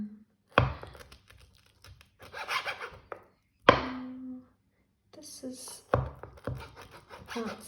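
One-handed rocking knife chopping ingredients for pasta puttanesca on a wooden board, several sharp close knocks mixed with rasping, rocking scrapes in irregular bursts, with pauses between.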